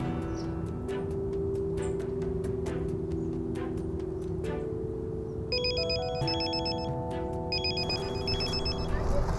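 A mobile phone ringtone plays as a loud repeating electronic melody over a noisy indoor scene with a steady background hum, sounding through most of the stretch and growing more insistent toward the end.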